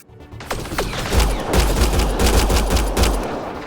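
Sci-fi gunfire in Mass Effect: Andromeda, a steady run of loud, close automatic shots with ricochet-like streaks over a deep rumble, and no talking.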